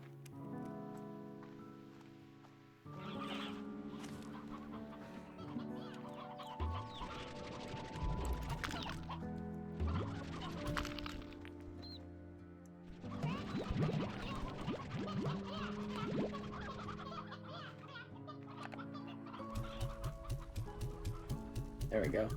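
Chickens cluck in Slime Rancher 2 amid game music and mechanical gear-like clicks, the clucks coming in short scattered bursts at moderate loudness throughout.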